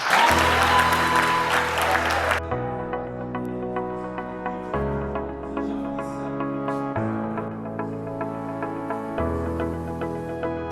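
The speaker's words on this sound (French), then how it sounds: "je vous demande, vous les jeunes, d'applaudir vos enseignants" Students applaud their teachers at a school awards day: a dense burst of crowd clapping fills the first couple of seconds, then gives way to steady music that carries on alone.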